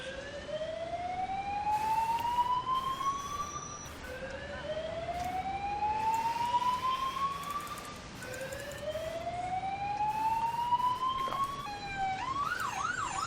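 A London emergency vehicle siren in the game Emergency 4 wails, sweeping upward in repeated rising tones, steady and fairly loud, with a brief warbling yelp at the end.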